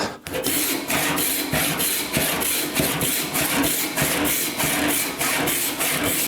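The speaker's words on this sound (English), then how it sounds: "I'm going to create a starter kerf with my regular 5 points per inch saw" A 5 points-per-inch hand saw cuts a starter kerf into a piece of scrap wood about 2 1/4 inches thick, with loud, close, evenly paced rasping strokes repeating roughly twice a second.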